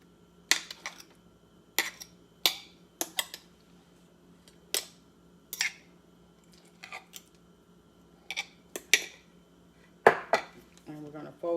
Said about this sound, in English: And we're going to fold it in to mix it in